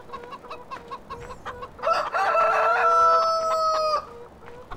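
Farm chickens in Farming Simulator 2013 cluck in short, steady bursts, then one bird lets out a long, drawn-out crowing call before the clucking resumes, close and clear with no talk.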